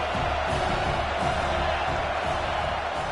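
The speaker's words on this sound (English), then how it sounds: "This crowd knows when to bring it." Crowd at a football scrimmage giving a sustained, even roar of cheering and noise, heard from a distance with no distinct voices standing out, steady for the whole moment.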